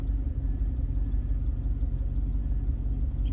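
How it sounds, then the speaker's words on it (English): A 1994 Range Rover engine idles with a steady, loud low rumble throughout, no talk over it. "The engine starts."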